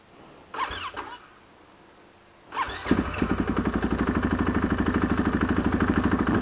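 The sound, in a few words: KTM 500 EXC dirt bike engine starting and idling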